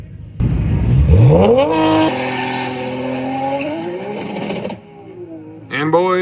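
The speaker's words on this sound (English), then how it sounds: "So the GTR hiccuped on the 1-2 shift" 1700 whp Nissan GTR launching hard at a drag strip, engine roaring up through the revs with tire squeal, a brief stumble on the 1-2 shift, then pulling again; loud and close, with voices partly underneath.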